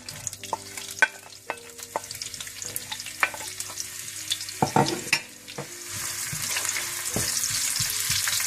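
Onions fry in desi ghee for biryani, sizzling softly with clinks and scrapes from stirring, a louder bubbling hiss building toward the end, close and without talk.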